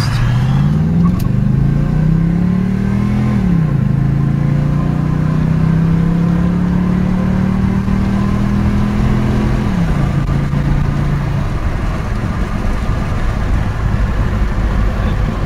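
An automatic-transmission car (TH350, TH400, 700R4 or 4L60 type) with a B&M shift kit accelerates on a test drive, its loud engine note climbing, dropping at a shift, climbing again and shifting once more, steady and close throughout.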